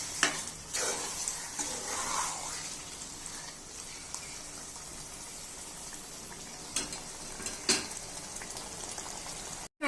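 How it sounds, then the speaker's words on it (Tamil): Quiet sizzling and frying of spices in a cooking pot for chicken biryani, with occasional scraping and stirring sounds over a steady crackle. "இப்ப இதெல்லாம் நல்லா வதக்கிடலாம்"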